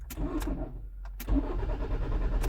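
A faulty car starter cranks a non-starting engine in short, uneven bursts, with brief clicks and pauses between attempts, close and fairly loud.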